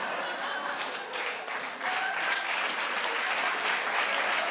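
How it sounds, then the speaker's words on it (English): A television talk-show studio audience claps in sustained, even applause, a dense wash of many hands that swells slightly partway through and keeps going to the end. "All right, clap a little louder."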